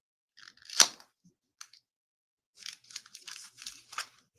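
Someone nearby opens a box of organic white tea with passion fruit flavor, making faint, close crinkling and tearing of paper and plastic in a few short bursts separated by silence.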